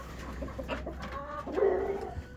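Chickens and hens at a feeder give soft scattered clucks and low coos, fairly quiet and close, with a slightly louder call near the end.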